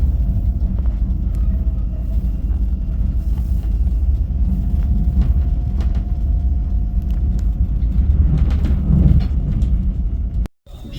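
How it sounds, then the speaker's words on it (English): A constant low rumble fills a train carriage, steady and heavy, with faint rattles and a sudden drop near the end. "We're on the train."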